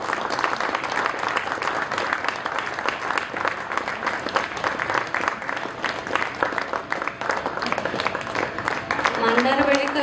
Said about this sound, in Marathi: टाळ्यांचा गजर होत राहू दे.